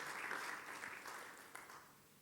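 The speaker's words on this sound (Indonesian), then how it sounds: "Mari beri tepuk tangan yang meriah bagi Tuhan kita" A Sunday worship congregation claps in a church hall, a faint, scattered round of applause that slowly fades toward the end.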